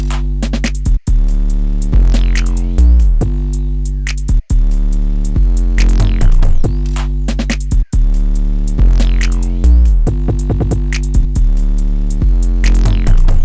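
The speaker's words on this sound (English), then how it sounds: "Next, guys, we're gonna move on to the drums, which are gonna sound like this." Programmed jazz-style drum beat built in FL Studio, a looping groove of punchy kicks and snappy hits layered over sustained chords, loud and continuous with brief dropouts.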